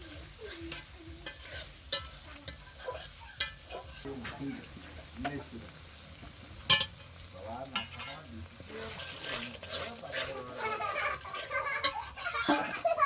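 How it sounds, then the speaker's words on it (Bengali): Spices, garlic and onion being sautéed in a pot at a picnic, a steady sizzle under repeated stirring and scraping, with occasional utensil clinks and faint voices in the background. "তো সেগুলো নিয়ে ভালোভাবে কষিয়ে নিচ্ছিলাম আমরা এখানে।"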